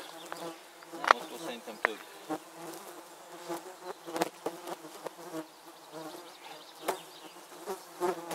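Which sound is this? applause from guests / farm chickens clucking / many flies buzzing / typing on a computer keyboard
many flies buzzing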